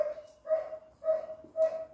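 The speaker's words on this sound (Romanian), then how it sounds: "când vede pe cineva pe bătătură la ăștia aici în spate, începe să latre câinele" A dog in a back yard in rural Buzău barks in three separate bursts with short pauses between them, fairly near, with no other sounds competing.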